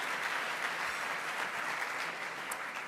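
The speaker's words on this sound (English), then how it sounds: "Please give them applause." Audience at a national convention applauding, a steady, dense wash of clapping from a large crowd that holds evenly throughout without any voices.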